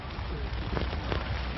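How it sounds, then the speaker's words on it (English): Steady rain pattering on a tent at a camporee in Oshkosh, a dense even hiss of drops close overhead with a few slightly louder taps, heard from inside the tent. "it's raining outside"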